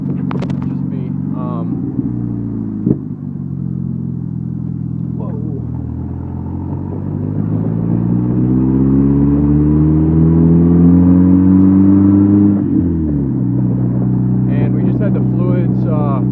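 A Jeep Wrangler Sport with a new clutch revs and shifts through the gears while driving: the engine drone climbs in pitch, drops at each shift, then builds again, close and steady, with someone talking over it.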